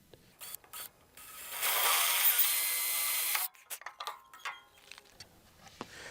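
A power drill bores a hole in a wooden platform on an outdoor workbench, a loud steady whirring burst of about two seconds framed by scattered clicks and clunks of handling.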